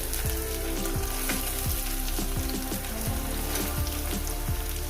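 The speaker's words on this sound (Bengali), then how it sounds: "এটা মিনিমাম এক থেকে দেড় মিনিট কি দু মিনিট এটাকে ভেজে নেব" Chopped onion and green chilli frying in hot oil with nigella seeds make a dense, close crackling sizzle, with rapid popping spatters and clinks throughout, loud and unbroken with no talk.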